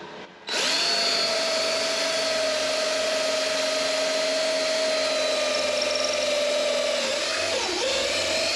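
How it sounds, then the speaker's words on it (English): A power drill bores through the wall of a tiny house, starting abruptly and running loud and steady for about seven seconds, then bogging briefly near the end, with no talking. "What I'm going to do is drill through right here."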